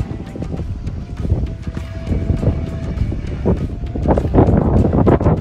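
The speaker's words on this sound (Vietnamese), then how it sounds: "gió thì anh em chịu khó nghe tiếng gió xè xè tí xíu" Strong wind buffets the microphone on a modern Vietnamese fishing vessel, a loud gusting roar with rough crackling bursts that grows stronger toward the end.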